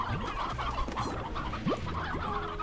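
A flock of rock chickens in the Slime Rancher video game clucks and squawks continuously, a busy overlapping chatter of fowl calls with no talk over it.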